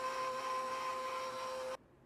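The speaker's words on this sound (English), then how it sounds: "we're going to switch over to the machine. And we're going to knead this for about 10 minutes" A stand mixer kneading bread dough for Finnish Queen's buns gives a steady electric motor whine with a constant tone, running alone before cutting off abruptly.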